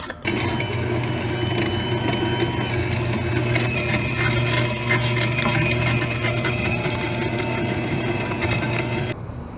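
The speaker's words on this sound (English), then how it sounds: "let's get to grinding some meat" An electric meat grinder runs steadily while grinding beef for smash burgers, giving a continuous mechanical whir and grinding churn that stops abruptly near the end.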